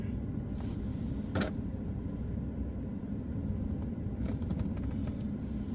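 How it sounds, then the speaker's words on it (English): A car approaches along a road through a bison range near Missoula, Montana, heard as a steady low rumble that stays constant throughout, with no talking. "There's a car coming. It should be coming up behind me."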